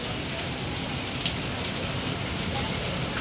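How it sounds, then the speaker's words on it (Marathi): Heavy rain pours down steadily, a dense continuous hiss of drops with no breaks, close and fairly loud. "लय पाऊस चालू आहे भयानक"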